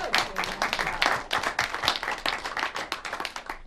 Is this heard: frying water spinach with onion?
no